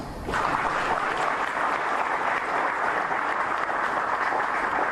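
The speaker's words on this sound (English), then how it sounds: "I thought you would clap some hands." Applause breaks out suddenly and continues as a steady, even wash of clapping from a room full of people.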